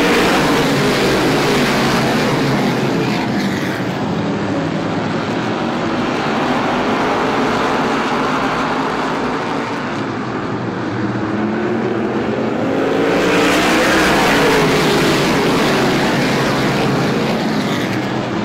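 A field of race cars roars at the green-flag start of an SBM 125 race at Star Speedway, a loud, continuous full-throttle engine din that stays dense throughout and swells again near the end, with no talk.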